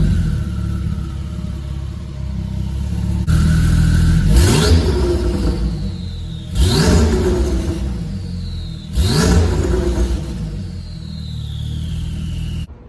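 A Lamborghini Urus in Sport Plus mode revs three times from a warm idle, each blip a loud rising surge that drops back to a low rumbling idle, heard close up with no talking.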